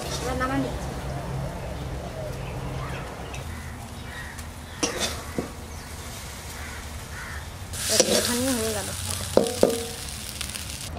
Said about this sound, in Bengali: শাকটা ভাজা ভাজা হয়ে গেছে, এইবার এই চালের গুঁড়িটা দিয়ে দেবো